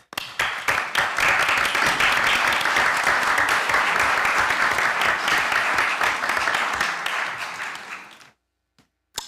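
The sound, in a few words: round of applause for the ambassador and her team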